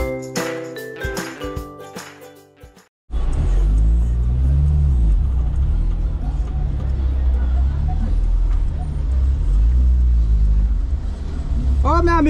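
A car engine rumbles loudly and steadily up close as the car is moved. It starts abruptly after a few seconds of voices and tones, then holds a continuous low drone to the end.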